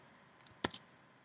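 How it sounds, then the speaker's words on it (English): A few small, crisp computer mouse clicks from right-clicking, one sharper click in the middle with lighter ticks just before and after, close and quiet in an otherwise still room. "right clicking actually just pastes"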